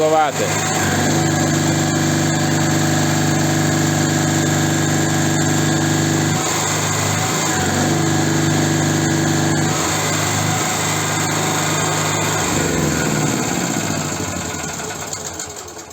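A Chinese petrol generator without automatic voltage regulation runs steadily under a 1–2 kW load, its engine drone continuous and loud with slight wavering in pitch throughout.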